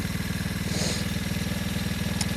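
A 125cc pit bike engine idles close by, a steady rapid low putter of regular firing pulses, alone and without talk.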